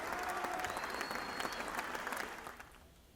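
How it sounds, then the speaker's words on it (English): Brief, fairly faint applause from a small group, dense clapping that fades out over a few seconds. "clap that up"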